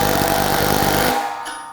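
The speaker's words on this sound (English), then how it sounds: "use a 3/4 inch wrench and a 3/4 inch head on a impact gun" An impact gun fitted with a 3/4 inch head drives a nut down a bolt, giving a loud, steady buzzing whir that cuts off abruptly near the end and leaves a faint ringing tail.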